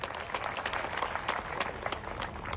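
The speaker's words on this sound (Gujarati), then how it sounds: "એ ખેડૂતો માટે જોરદાર તાળીઓ થઈ જાય" Audience applause for farmers at a public gathering in Kutch, a steady wash of clapping from a crowd that stays even and moderately loud throughout, with no voice over it.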